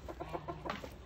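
Chickens cluck in a quick run of short, soft notes, faint and close together in a pen.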